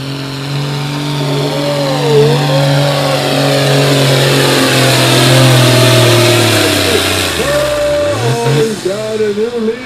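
A roaring 9000 lb modified farm tractor, John Deere or Ford class, pulls a sled at a Platteville, Wisconsin tractor pull, holding a loud sustained engine roar for several seconds before the pitch drops and bogs near the end.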